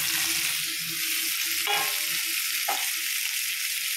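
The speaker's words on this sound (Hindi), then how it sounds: "इन पनीर के टुकड़ों को सेकने के लिए घी और तेल दोनों मिक्स करके डाला है" Paneer pieces sizzle in a mix of ghee and oil over medium flame, a steady close hiss with a couple of brief clatters as they are gently stirred.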